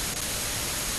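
Steady hiss of radio static fills the moment as a connection breaks up in the Phantasy Star Universe video game, a flat, unbroken wash of noise with no voices.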